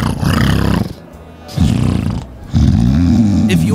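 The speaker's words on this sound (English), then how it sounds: "If your snoring is getting more attention in bed than you are" A man snores loudly in bed, giving three long, rasping, roaring breaths separated by short pauses. The snores sound close and dominate the clip.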